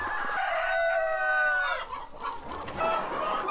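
Chickens on a Korean farm, raised on feed mixed with turmeric and red ginseng, cluck loudly up close while a rooster lets out a long crow, the calls overlapping in a busy, nearby flock.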